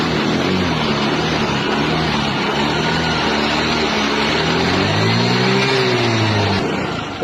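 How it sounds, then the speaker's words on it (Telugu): A 2020 TVS Jupiter scooter, reported in good running condition with about 41,000 km, idles steadily up close, its engine note rising and falling in a continuous drone with no talk. "సో బండి ఇంజన్ సౌండ్ కూడా మీరు వినొచ్చు."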